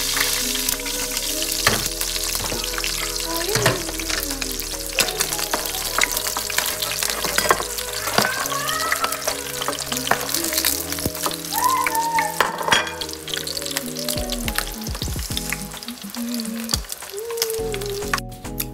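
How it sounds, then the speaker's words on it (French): Salted fish frying in a pan, giving a steady loud sizzle that runs unbroken throughout, with occasional clinks and spatters rising over it, close by and without any talk. "je vais frire le poisson salé"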